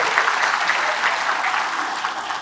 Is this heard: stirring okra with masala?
no